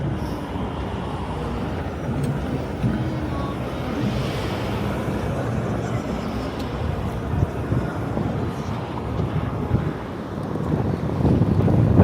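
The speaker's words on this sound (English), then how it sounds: "When the wind really goes, you feel the cold air behind it." Wind gusting on a New York City street during a spring walk, a steady loud rushing buffet against the microphone that swells toward the end.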